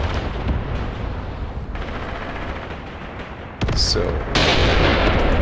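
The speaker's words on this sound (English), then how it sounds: "they are starting to retreat back towards this position where currently enemy artillery is landing." Enemy artillery shells land in the World War II tactics game Graviteam Tactics Mius Front, a continuous loud rumble of impacts and gunfire with a heavier burst near the end, while someone briefly speaks.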